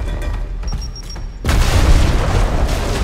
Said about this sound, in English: maybe I can grenade this thing open?